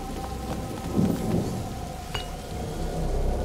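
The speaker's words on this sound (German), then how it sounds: "Lukas, Hugo, bleibt aus dem Regen raus." Steady rain with rolling thunder rumbles in a dark outdoor scene of the video game A Plague Tale: Innocence, heard alone without talk.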